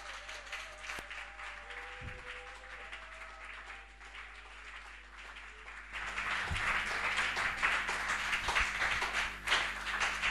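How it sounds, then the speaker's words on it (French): A congregation at a French-language Sunday church service claps and cheers, the applause swelling louder halfway through into a dense, sustained wash of hands with some rhythmic taps. "Et très très fort, tu vas acclamer le Seigneur Jésus."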